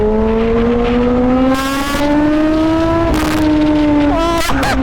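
A Kawasaki ZH2 motorcycle accelerates hard in first gear, its engine note climbing steadily in pitch with loud, continuous revving and brief shifts in tone near the end.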